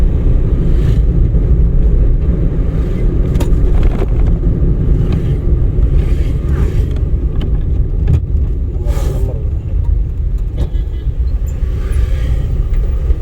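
A car rumbles along steadily from inside the cabin during a driving lesson as the driver shifts into fourth gear. A constant low engine and road drone is broken by faint clicks and knocks.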